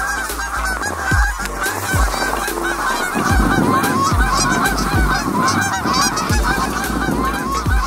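Geese honking loudly during a North Dakota waterfowl hunt, a flock calling in overlapping nasal honks, some close and some farther off, with wind-like noise underneath and no talking.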